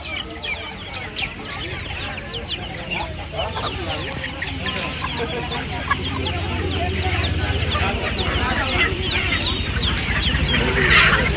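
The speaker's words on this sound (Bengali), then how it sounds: "তিনটেই সিল্কি মুরগি বাচ্চা আছে" Silkie chicken chicks and other fowl at a busy poultry market, a dense chorus of high peeping and clucking birds close by, continuous and growing louder toward the end, with faint voices underneath.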